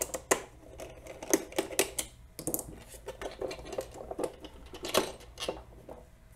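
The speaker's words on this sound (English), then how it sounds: "same thing here, just 2 screws to take the shell apart" Two small screws being backed out to separate a plastic shell, giving irregular light clicks and metallic ticks that are close and fairly quiet, with no talk.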